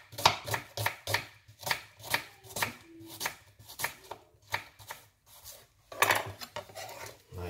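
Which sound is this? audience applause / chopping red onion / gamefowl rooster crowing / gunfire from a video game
chopping red onion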